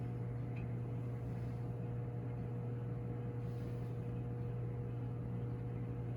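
A microwave oven runs with a low, steady electrical hum that never changes, quiet and continuous throughout.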